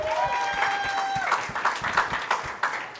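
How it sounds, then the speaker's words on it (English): Warm round of applause from an audience at a dentistry talent show, medium-dense clapping with individual sharp claps standing out and a faint tonal sound and murmuring voices beneath. "can everybody please give her another warm round of applause"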